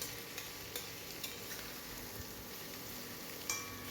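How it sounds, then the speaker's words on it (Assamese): Soybean chunks fry quietly in oil over low heat, giving a faint, even sizzle with light periodic stirring taps and a sharper scrape near the end. "ভালদৰে লৰাই মিক্স কৰি দিম।"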